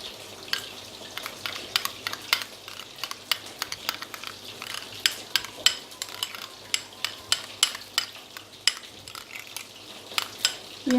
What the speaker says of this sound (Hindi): अब इन तीनों को हम मिक्स कर लेंगे अच्छी तरह।